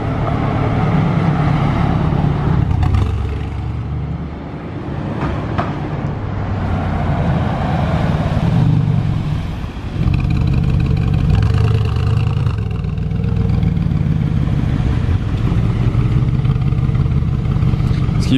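A Mercedes G-Class, apparently stock-looking but likely decatted, passes slowly with the valet at the wheel in Monaco; a loud, sustained low engine rumble swells and dips across the pass with no speech.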